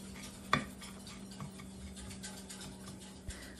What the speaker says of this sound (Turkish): spatula yardımıyla şöyle tepsimin her yerine gelmesini sağladım